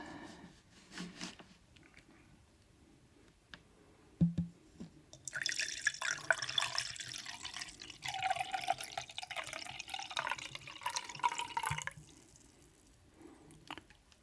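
Water pours into a glass in a long, steady trickling stream lasting several seconds, close and clear, with a few drips and clinks before and after and no talk.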